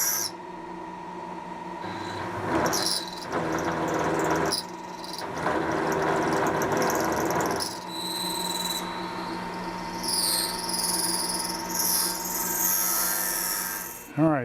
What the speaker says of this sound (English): we're just going to use a 3/8 inch end mill here and nibble at the sides of this slot